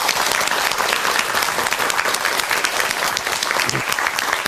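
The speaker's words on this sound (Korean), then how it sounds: "큰 박수 부탁합니다" Loud, sustained audience applause after a lecture on 21st-century seonbi spirit, dense crowd clapping holding steady throughout.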